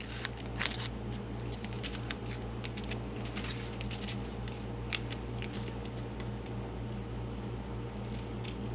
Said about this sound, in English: And then cut along the line you just drew.